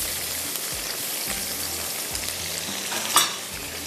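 Boiled rice going into a frying pan with soy sauce for garlic sticky rice, a continuous close sizzle with repeated scraping stirs and a sharp clatter near the end, no voices.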